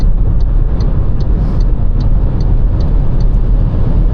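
An MG4 Comfort rear-drive electric car, rated at 170 hp, accelerates hard at full throttle, heard from inside the cabin. A loud, dense road and wind roar is steady throughout, with a faint recurring high tick under it.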